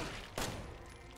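A single sharp gunshot fired at the Marguerite boss in Resident Evil 7 cracks out briefly over dense, noisy game ambience.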